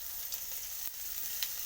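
Chopped garlic frying in oil in a kadai with panch phoron, a steady soft sizzle with faint crackles throughout, close by and alone without talk.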